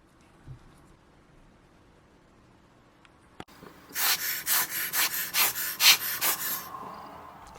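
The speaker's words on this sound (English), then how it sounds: "Ooh, that washer looks a bit manky, so let's give it a little scrub" A small brush scrubs a dirty, grimy washer from a quartz Tag Heuer watch, giving a rapid series of about eight bristly rasping strokes after a quiet pause and a faint click, close and fairly loud.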